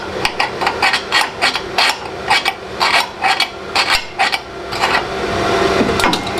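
Scratch awl scribing lines on steel for an airbag suspension shock mount relocation on a 1990s Chevy truck, sharp repeated scraping strokes in uneven bursts, close up, with one brief spoken word.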